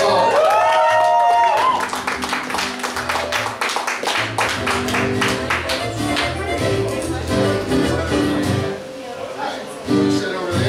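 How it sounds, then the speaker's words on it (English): Audience applause and cheering at a live comedic stage show in a church-parody tabernacle setting, a dense sustained clapping wash that starts loud, swells under speech and music, and continues for several seconds before tapering. "Give him a round of applause."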